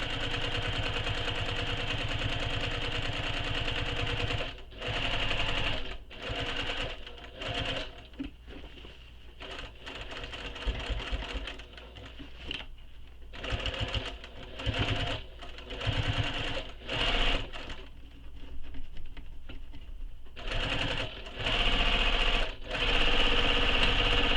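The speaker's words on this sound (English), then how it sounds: "I've stitched all the way around my whole base" Domestic sewing machine running a second line of stitching around the base of a handmade bag, in close, steady bursts of motor whir and needle chatter separated by short pauses.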